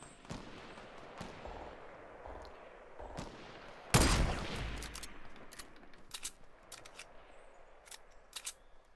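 Sniper rifle shots in Fortnite, a few sharp cracks spaced through the clip with one louder, heavier blast midway and its fading tail, over a busy game soundscape.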